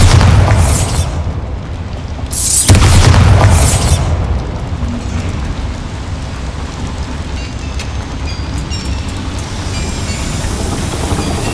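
A Bombarda spell in Hogwarts Legacy sets off a loud booming blast, followed by a second deep burst and a long rumbling, crackling decay of debris while game ambience continues.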